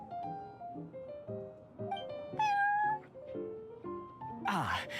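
Prince, a cat at the Cat's Tail in Genshin Impact, gives a string of close meows over soft game music, ending in a louder drawn-out yowl.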